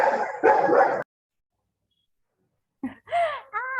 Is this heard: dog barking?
yes